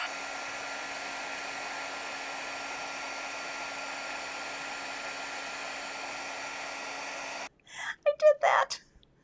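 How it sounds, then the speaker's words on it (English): A heat tool blows hot air over a heat-safe surface during shaker card crafting, a steady loud whooshing hum that cuts off abruptly, followed by a few words of speech. "Okay, I'm going to turn on my heat tool."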